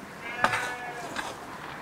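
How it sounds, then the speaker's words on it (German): Two farm sheep bleat on a farm in Walsdorf near Bamberg, Bavaria, giving two short calls close by, a louder one followed by a softer one, with no talk over them. "Die zwei Schafe können auch zum Betrieb."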